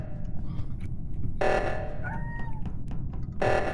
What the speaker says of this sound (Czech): Chci mít taky kočičku.